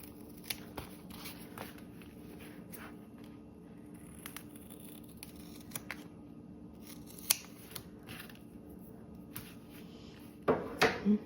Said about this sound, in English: Now you can trim around your corners.